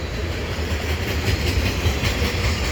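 An eastbound CN general manifest freight train rolls past at the Dorval ramps, a loud, continuous rumble with rhythmic clickety-clack of wheels over rail joints, close by.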